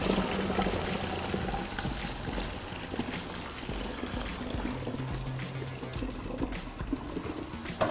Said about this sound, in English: I'm going to grab the sides and pour it in.